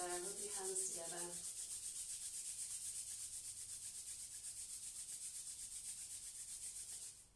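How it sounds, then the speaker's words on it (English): A pair of hands rubs briskly together during a morning yoga session for beginners, a steady close dry swishing friction that runs on continuously after a brief spoken word at the start. "rub your hands together"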